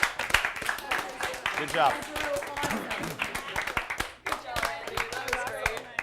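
Scattered audience clapping at a Picture This! championship game show, fairly close and steady across the clip, with people talking and cheering over it throughout.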